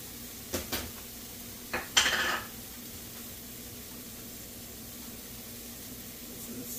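A metal cooking pot being set down and handled on the stove as salted pasta water is started, giving a few sharp clanks and a brief scrape in the first seconds, then a quiet hiss with nothing else.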